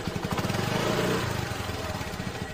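A cartoon motorbike pulls to a stop and its engine settles into a steady, rapid chugging idle, moderately loud and close, fading slightly toward the end.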